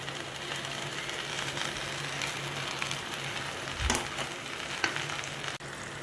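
Okra (bhindi) fries in a pan, giving a steady close sizzle with a few faint stirring knocks and clicks and no talk.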